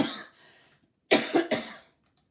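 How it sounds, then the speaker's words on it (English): A person coughing twice in quick succession, sharp close bursts after a faint stretch of breathy noise, then quiet. "I know it's driving you all mad, me coughing"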